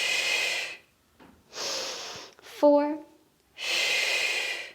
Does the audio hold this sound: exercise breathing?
yes